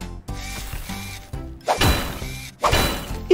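In a children's cartoon, a hammer strikes a frozen hubcap on a tow truck, giving two loud cracking impacts about a second apart over background music.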